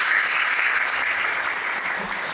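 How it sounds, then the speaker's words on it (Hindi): An assembly of schoolteachers claps for a student, a dense, steady round of applause that stays at an even, fairly loud level through the whole short stretch. "ताली बजाइए उसकी"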